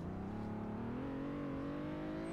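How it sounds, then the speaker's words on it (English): Pickup truck engine in the Roblox game Greenville, modeled on a Toyota Tacoma, hums steadily and rises in pitch as it accelerates, a close continuous drone with no talk. "pretty nicely modeled and it sounds like the Toyota Tacoma"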